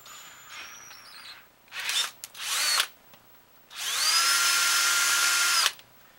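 A power drill bores the plunger tube of a SnapBow stock in three bursts, two short whines followed by one longer, steady run, close and loud with quiet gaps between.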